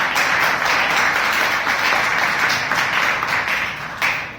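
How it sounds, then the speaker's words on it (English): An audience at a Toastmasters meeting breaks into applause for a speaker: a thick, even roar of many hands clapping close by, holding steady with no talk before fading slightly at the end. "So he deserves a big round of applause."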